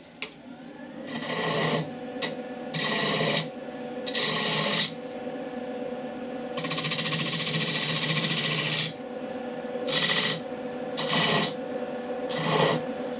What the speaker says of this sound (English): What I'm going to do is just put a couple of decorative lines on that bottom